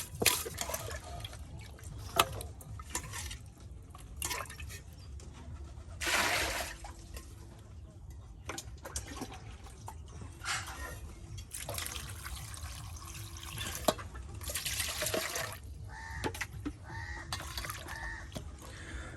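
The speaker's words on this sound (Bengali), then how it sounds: "এই যে মাছগুলি কিন্তু নানি বারবার ধৌত করতেছে। দেখুন একদম পরিষ্কার করে নিচ্ছে ধৌত করে।" A grandmother in a village kitchen washing rohu fish again and again: intermittent faint splashes and sloshing water, with chickens clucking softly in the background.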